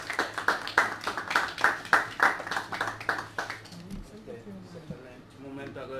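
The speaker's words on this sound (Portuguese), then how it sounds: "uma salva de palmas." A small audience claps at the close of a Portuguese-language presentation of an indicators report, several seconds of uneven handclaps that thin out and give way to murmuring and a voice.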